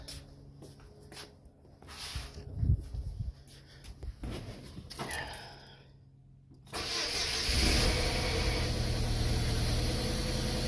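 A 2005 Chevy Cavalier with bad fuel injectors and a P0301 code, heard first as scattered clicks and knocks, then the engine catching and running as a loud, steady, rough rumble through the last few seconds.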